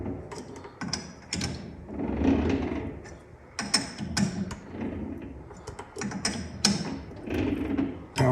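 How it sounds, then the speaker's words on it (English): Metal lathe chuck cranked by hand to feed a tap into a workpiece, irregular mechanical clicks and ratcheting knocks in short bursts, close and moderately loud, with no speech. "as I, crank the chuck around, the tap is going to advance in"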